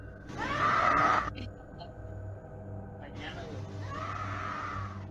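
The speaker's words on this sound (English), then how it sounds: "You can hear a woman scream." A woman's scream captured in a nightclub recording, one loud sustained cry near the start followed by another long, quieter wail a few seconds later, both over a low background hum.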